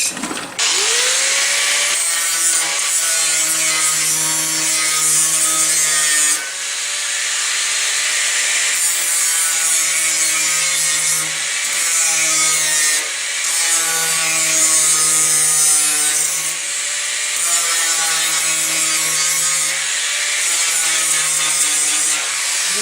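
Feathering disc on a power grinder works down welds on a car body panel of an old Ford Fairlane, a loud continuous abrasive whine with steady humming tones that rise and dip in repeated passes, alone without talk.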